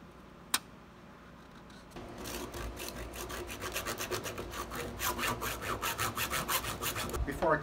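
Half-inch thin-wall PVC pipe being hand-sawn, starting after a sharp single click, then rhythmic back-and-forth strokes that grow louder and quicker, each stroke a distinct rasping pulse.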